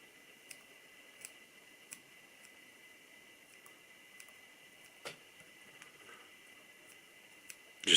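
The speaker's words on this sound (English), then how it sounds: "And they'll get the curved scissors" Curved scissors snip fur into the shape of a muddler head on a fly-tying vise, a series of faint, sparse clicks spaced around half a second apart over a quiet background hum.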